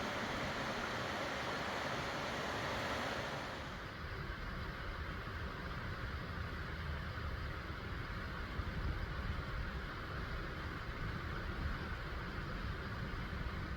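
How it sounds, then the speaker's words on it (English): Steady rushing water of a river in Dunsmuir, California flows continuously, a broad even roar from below, with no voices. "Right above the river. Can you hear that beautiful sound?"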